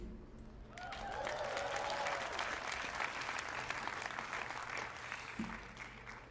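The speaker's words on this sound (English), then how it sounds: "please be sure to cheer so loudly that we can hear you all the way here in Pittsburgh" A commencement crowd bursts into sustained applause with cheering and whoops, rising quickly to a loud, dense roar of clapping that holds steady before easing off slightly at the end.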